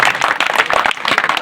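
Enthusiastic applause from a crowd at an outdoor street-corner political rally, dense and loud with quick overlapping claps throughout a short burst.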